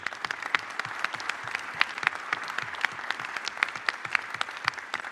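A room of attendees at a business event gives a round of applause, crisp individual claps blending into steady, moderately loud clapping that carries on evenly without voices.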